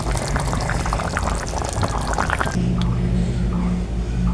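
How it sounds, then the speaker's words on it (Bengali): Chicken curry in a thin broth poured from the cooking pot into another vessel, a loud close gush of liquid that stops partway, leaving a low hum and faint drips. "তরকারিটা আমি চুলা থেকে নামিয়ে নিয়েছি অন্য পাত্রে"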